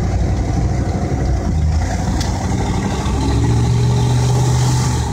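Loud, close engine and road noise from a 1987 Chevy Corvette C4 taking a corner, with a steady drone and a slight rise in engine note toward the end, heard from inside the car with no talking.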